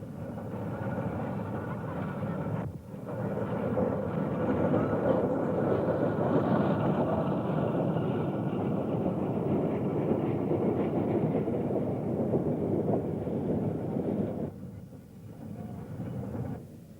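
Sans Pareil steam locomotive running on a railway, a broad steady rumble and hiss that swells in, holds strongly for several seconds, then drops away near the end.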